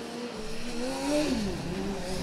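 Erlangen's Formula Student race car braking and finishing a lap of the historic autocross, engine note rising then dropping in pitch through the braking zone, heard at moderate distance over outdoor ambience.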